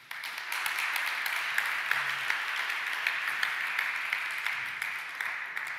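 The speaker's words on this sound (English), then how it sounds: "big applause to all the 15 startups for their presentations" A large audience applauding startup presentations at a pitch competition grand final, a continuous even roar of clapping that runs steadily throughout.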